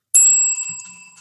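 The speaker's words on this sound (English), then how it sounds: "That's a bell." A single bright bell ring, struck once and left to decay with a clear sustained ringing tone, close and loud with no talk.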